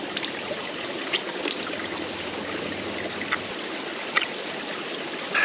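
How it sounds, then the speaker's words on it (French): Small hand pump filtering stream water on a mountain hike near Mont Blanc, a steady trickling, gurgling wash with a few faint clicks and squeaks of the pump, continuous and close, without speech. "premier essai de cette petite pompe donc qui filtre l'eau"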